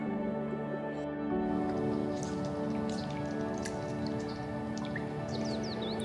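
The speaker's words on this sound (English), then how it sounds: "Even though summer is officially here, the rain is also still here." Rain falling on a camping trip in Sweden, a steady patter of drops on a surface with a constant hiss and occasional louder drips, close by and unbroken, without voices.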